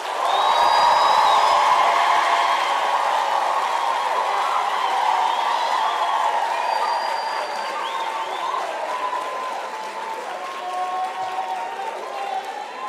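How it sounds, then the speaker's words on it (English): A graduation ceremony audience applauding the parents, a broad sustained wave of clapping with some cheering and whoops that starts loud and slowly tapers off without fading out. "Can we please give our parents a big round of applause"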